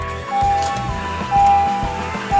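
A 2017 Honda CR-V's 2.4-liter four-cylinder engine starting by push button and idling, a low steady rumble with a faint repeating electronic chime over it, close and without talk.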